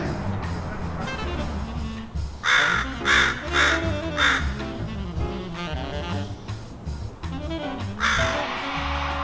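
Crows caw repeatedly in loud, harsh bursts as they mob an eagle perched in a local tree, the calls overlapping with layered background bird noise throughout.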